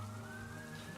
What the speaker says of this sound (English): A siren blares